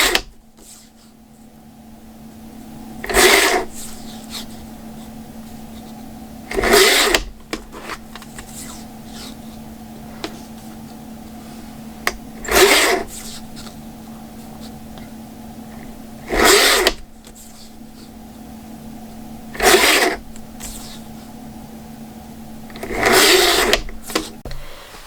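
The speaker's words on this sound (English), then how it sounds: "I use the cutter to cut all of these strips" A cutter slices through strips of leftover diamond-painting dots in a book art craft, making about seven short, crisp crunching cuts spaced a few seconds apart over a faint steady hum.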